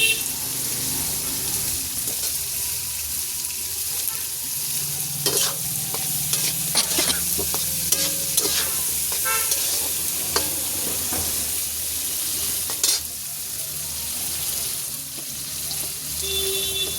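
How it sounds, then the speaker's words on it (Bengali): Carrots and other vegetables sizzle in a pan while a utensil stirs them, producing repeated scraping clicks over a constant frying hiss, with little or no talking. "গাজরও ভাজা হয়ে যাবে, আর এও হয়ে যাবে একসঙ্গে"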